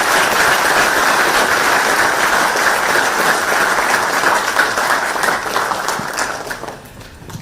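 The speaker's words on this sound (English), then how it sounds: "this needs a big, big round of applause" Loud, sustained applause from a university audience, dense and steady, fading out toward the end.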